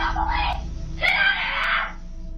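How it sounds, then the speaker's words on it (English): A girl inside a house screams in doorbell camera footage, two drawn-out high wails, the second louder and rising, over a low background rumble. "the obvious screams from the girl inside as she notices the men at the door"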